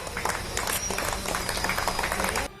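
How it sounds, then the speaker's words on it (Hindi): People lining a Lucknow street applaud police officers, a dense, continuous patter of many hands clapping close by that cuts off abruptly near the end. "लोग सड़क किनारे खड़े हो गए और तालियां बजाकर उन्होंने पुलिस वालों का स्वागत किया"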